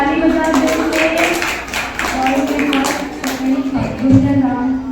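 Children and adults in an audience at a summer camp prize-giving clap together in a sustained round of applause, with a voice heard briefly under the clapping.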